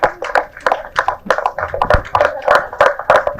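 Applause from an audience at a 25th-day celebration event for a Tamil film, sounding as dense, rhythmic hand claps that stay close, loud and steady throughout with no voices over them.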